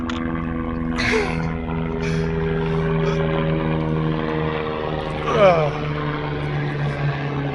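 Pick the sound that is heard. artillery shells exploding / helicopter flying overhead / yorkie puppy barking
helicopter flying overhead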